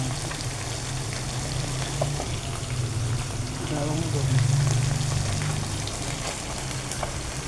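Galunggong fish fries in a pan with a steady crackling sizzle and spatter, close and even, swelling a little midway, while someone speaks over it.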